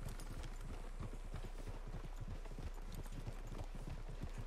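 Horse hooves clip-clop steadily from several mounts in the Red Dead Redemption 2 video game, with a brisk, continuous rhythm over a low rumble throughout.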